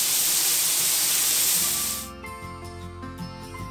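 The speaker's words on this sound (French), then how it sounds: "3-4 oignons qu'on va faire caraméliser" Three to four onions being caramelized hit a hot pan with a loud, close, broadband sizzle for about two seconds, then fade into a softer hiss under a tonal background.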